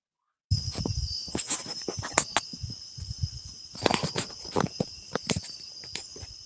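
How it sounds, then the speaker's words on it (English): Crickets chirping at night with frogs around, a steady high buzzing drone alongside scattered soft patters and rustles close to a microphone, with no speech. "we can hear the frogs and crickets"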